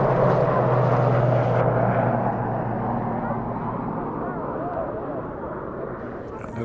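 A Royal Navy Commando Helicopter Force Sea King military helicopter flies past at the Eastbourne International Airshow, a loud continuous engine and rotor roar that gradually fades, with voices faintly underneath.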